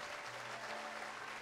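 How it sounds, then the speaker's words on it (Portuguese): A church congregation applauds vigorously during an evening worship service, dense continuous clapping that stays quiet and somewhat distant throughout, with a low steady hum underneath. "aplauda com vontade, aplauda com força"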